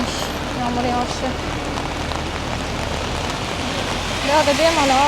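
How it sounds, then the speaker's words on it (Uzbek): Rain falls steadily in Kuala Lumpur, a dense, even hiss of drops on surfaces, with faint voices murmuring beneath it and a brief rise in nearby sound toward the end. "Ko'rinish, yomg'ir yog'ishi."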